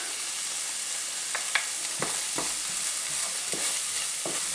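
Ginger paste, garlic paste, garam masala, turmeric, cumin and hot chili powder fry together in a pan over medium heat, giving a steady soft sizzle. A few scraping stirs break through it, with no talking.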